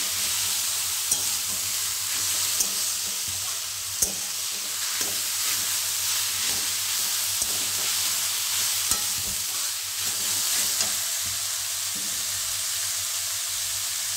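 Mixed vegetables for a dry sabji sizzle steadily in a hot pan, a constant hiss broken by the scrape and tap of a spatula stirring now and then.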